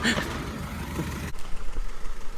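A Willys Jeep engine idles steadily at close range, a low continuous rumble with a sharp change in tone partway through, then an uneven, pulsing idle.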